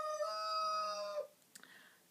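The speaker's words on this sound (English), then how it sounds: "Can you guys hear the chickens?" A rooster crows outdoors, one clear drawn-out cock-a-doodle-doo at moderate distance, followed by a few faint clucks from chickens.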